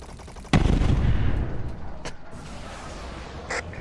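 Gunfire in the VR shooter War Dust: a sharp loud shot opens a dense roaring burst of fire, then decays into rumbling battlefield noise with a few fainter distant pops.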